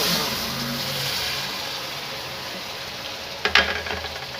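Steady sizzling of ground garlic-ginger paste frying in a pan, continuous and close, with a brief clatter of stirring near the end.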